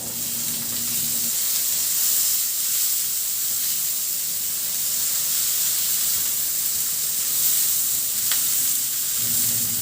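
Garlic and onion sautéing in oil in a wok, a steady bright hissing sizzle that holds throughout, with a low hum early and late and one sharp tick near the end.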